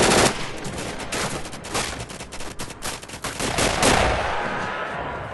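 Rapid gunfire in a shooter video game fills the moment: dense, loud bursts of shots, close and overlapping, with a sharper crackle of fire near the end.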